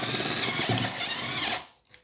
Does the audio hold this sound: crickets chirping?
no